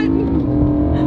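A BMW M3 Frozen Limited Edition pushed hard, its engine a loud, steady droning tone heard from inside the car, with a voice talking over it.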